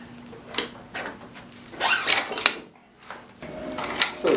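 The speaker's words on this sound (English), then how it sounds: "just pull the axle out" A Kawasaki Ninja motorcycle's metal rear axle being slid out of the wheel hub, giving a series of close scraping, rubbing metallic strokes with short pauses and no voices.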